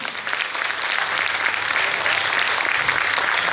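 Steady applause from a seminar audience in Baharampur fills the space, a dense wash of many hands clapping continuously at close range with no break.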